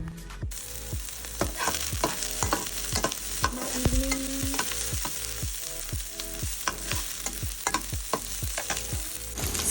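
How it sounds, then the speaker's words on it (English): Kadhai mushroom sizzling and frying in a pan while being stirred, with a steady loud sizzle and repeated scraping strokes of the spoon throughout, no voices. "So I'm making Kadhai Mushroom today."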